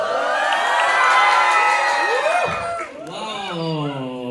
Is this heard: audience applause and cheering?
yes